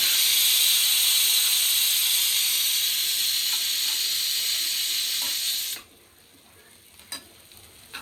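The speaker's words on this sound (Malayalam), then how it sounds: "ഈ അരി ഒന്ന് ആ നെയ്യിലൊന്ന് വഴറ്റി കൊടുക്കണം" Rice being sautéed in hot ghee for Punjabi-style ghee rice gives a steady, loud sizzling hiss that runs unbroken for most of the clip, then cuts off abruptly, leaving quiet with a few faint clicks.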